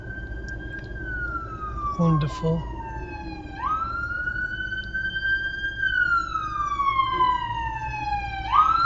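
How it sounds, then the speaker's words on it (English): A wailing ambulance siren sweeps slowly up and down over steady traffic rumble at a set of traffic lights, with a brief spoken word partway through. "There's another ambulance coming now."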